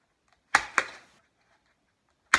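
A handheld paper hole punch bites through a paper plate in three sharp, close clicks: two quick ones in succession, a pause, then a third.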